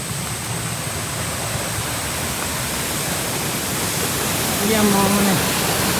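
A hidden waterfall at Kakkayam roars as a steady broadband wash of falling water, constant and enveloping, with a brief voice or whistle-like tone rising over it near the end.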